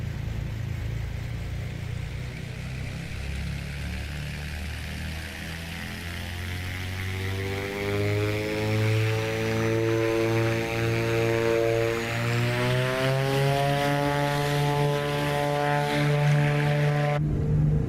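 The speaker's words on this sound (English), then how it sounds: "Listen to this turbocharger whine" The turbocharged engines of a Grand Duke twin in Microsoft Flight Simulator spool up for takeoff, a droning propeller hum with a whine that climbs steadily in pitch and grows louder over about eighteen seconds.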